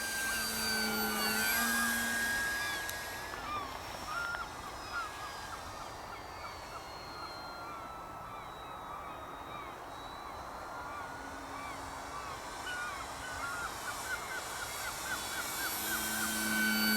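A Hobby Bigfoot model airplane, styled after a Cessna 150, flies overhead with a continuous engine whine that rises and falls in pitch as it passes, moderately distant over outdoor background noise.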